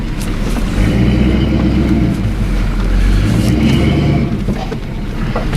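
A large vehicle's engine idling and rumbling loudly and close while being parked, a steady low drone that eases slightly near the end, no talking.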